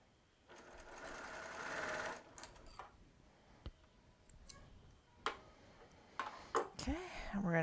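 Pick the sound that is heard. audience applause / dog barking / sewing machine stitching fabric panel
sewing machine stitching fabric panel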